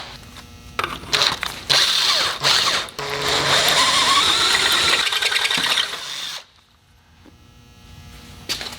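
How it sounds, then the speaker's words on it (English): A power drill with a 1/4 inch bit bores into the flat bed of an XP camper, a loud steady whirring grind that starts and stops in short bursts, then winds down to quiet. "now it should be good enough to drill it to final size"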